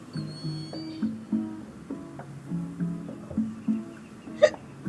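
A person gets hiccups, with one sharp, distinct hiccup near the end over soft, steady background music.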